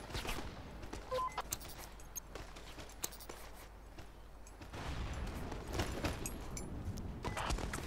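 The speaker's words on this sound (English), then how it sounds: "Artillery." Artillery and gunfire in the war game Invasion Machine: a dense fusillade of sharp cracks and bursts, steady and loud throughout, swelling heavier in the second half, with no voices.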